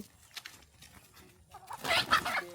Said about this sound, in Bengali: এই মুরগি মারামারি করস কে তোরা